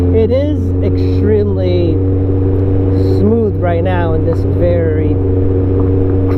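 A Kawasaki Concours 14 motorcycle rides along a crushed gravel road, its engine holding a steady, close drone beneath a rider talking almost continuously.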